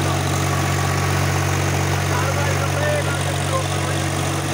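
A Swaraj 733 FE 35 hp tractor runs a 7-foot rotavator at 1800 RPM, its engine a steady, loud, close diesel drone with an even low hum throughout.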